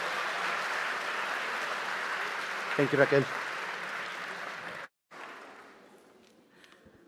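Broad, continuous applause from the crowd at a university welcome event in Madrid, cutting off abruptly near the end, after which a voice speaks briefly over a quiet room.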